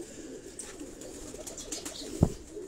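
Pigeons in a rooftop cage in Karachi coo softly and intermittently over a quiet ambient hum, with a single sharp knock or thud near the end.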